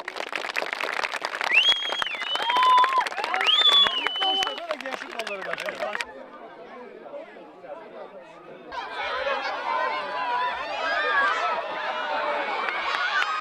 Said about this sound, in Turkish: Ey, alkışlayalım.